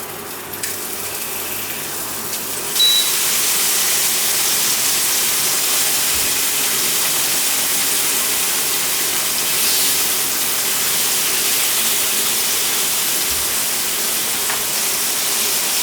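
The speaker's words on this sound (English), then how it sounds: "now let's just pan fry some tomatoes over here" Tomato slices frying in a pan while making a one-pan egg toast sandwich, giving a steady, loud broadband sizzle that starts sharply about three seconds in and holds evenly to the end, with no talk.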